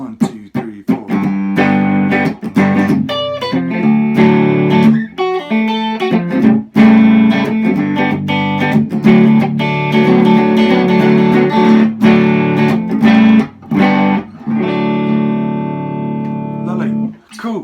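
Guitar in D standard tuning strums and picks a song, loud and close with rhythmic chord stabs and short pauses between phrases.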